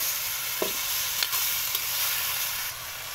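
Seafood cooking with coconut milk in a pan gets stirred, giving a steady close sizzle with a few soft clinks and scrapes from the spoon, and no voices.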